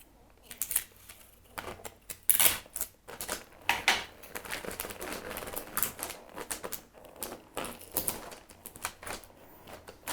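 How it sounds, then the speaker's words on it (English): Tape is pulled, pressed and patted down onto wrapping paper around a present, producing irregular crinkly clicks, taps and rustles up close with no talking. "tape it down."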